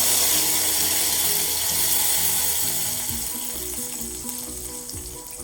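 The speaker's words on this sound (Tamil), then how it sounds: "இப்போ நம்ம புளி தண்ணி அதில் சேர்த்துடலாம்." Tamarind water is poured into a hot pan of sautéed eggplant, onion and garlic, setting off a loud, bubbling sizzle that slowly settles and fades over a few seconds.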